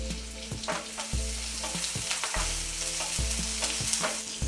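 Sliced onions sizzle in about two tablespoons of hot oil in a frying pan, a steady loud crackle with repeated stirring scrapes and knocks throughout, no voices.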